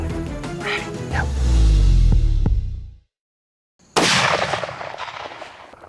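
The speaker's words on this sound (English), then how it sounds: "Oh, that was a great shot, man." A single loud, close rifle shot fired at a bull elk during a hunt in eastern Kentucky, booming and reverberating before cutting out, followed by a second burst of loud noise.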